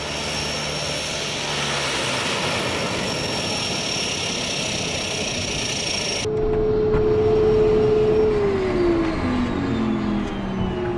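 A Pilatus PC-12 NGX turboprop in flight, a steady loud engine drone with a constant high whine that shifts in tone partway through and a falling tonal sweep near the end, no voices.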